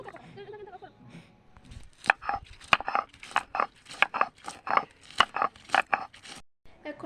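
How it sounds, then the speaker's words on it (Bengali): Onion, ginger, garlic and green chilli are ground into a paste with sharp, rhythmic crushing and grinding strokes, close and fairly loud after a brief murmur at the start. "এখন আমি সবগুলোকে বেটে নিচ্ছি"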